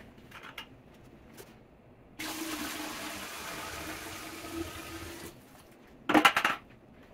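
Water pours into a distillation still prepared for myrrh, about 8 litres, a steady rushing fill lasting around three seconds, followed by a brief clattering splash near the end in an otherwise quiet room.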